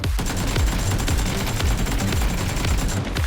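Rapid, continuous gunfire crackles in dense bursts, loud and close, like automatic weapons in a PUBG: Battlegrounds firefight.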